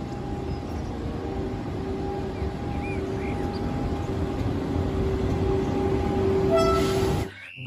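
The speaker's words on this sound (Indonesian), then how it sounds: "Wih, ada kereta cepat." A high-speed train rushes past in a steady roaring hum with a faint whine, holding level for several seconds before cutting off abruptly.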